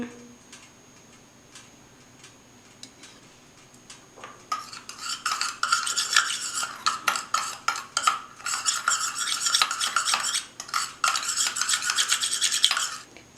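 A lemon juice face pack being mixed in a small bowl, quiet ticking taps at first, then a dense run of rapid spoon clicks and scraping stirs, close and continuous, no speech.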